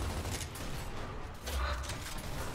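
Gunfire in Gears of War: Ultimate Edition, sustained rattling bursts of heavy weapon fire with a booming low end, loud and nearly continuous throughout.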